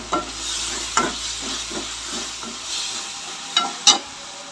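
Tomatoes sautéing in a hot pan, pushed around with a ladle: a steady sizzle with soft rhythmic scraping strokes and a few sharper clinks of the ladle toward the end, no voices.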